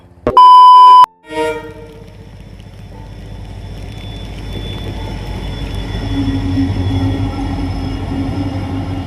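A train passing a closed railway level crossing, opening with a loud electronic beep followed by a growing rumble of wagons rolling by, rising steadily and staying heavy to the end.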